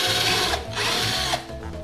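A power drill bores through a round tube meant for homemade stilts, giving a steady whirring grind close by that dips briefly twice as the bit catches.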